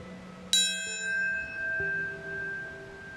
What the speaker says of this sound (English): A bell marks when the towers were struck by the planes and when they collapsed.